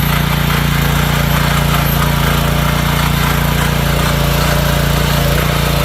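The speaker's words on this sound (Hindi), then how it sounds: "यहाँ पर जो पावर टिलर है यह सामान्य गति और सामान्य इंजन की क्षमता पे चल रहा है" A 7 HP power tiller engine runs steadily at normal speed with no load, a loud, constant droning hum that stays even throughout with no talking.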